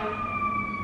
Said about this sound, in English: Sirens and horns and all sorts going off today.